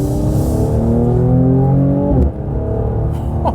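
A Mercedes C43 AMG with 390 horsepower accelerates hard while driving, its engine note climbing steadily in pitch before a brief drop at a gear shift and renewed pull, loud and close from inside the car with no talk.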